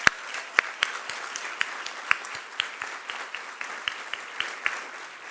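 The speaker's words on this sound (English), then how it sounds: "Let's give them a round of applause." Audience applause at a council swearing-in ceremony: steady clapping from a room of people, with crisp individual claps standing out over the continuous patter for several seconds.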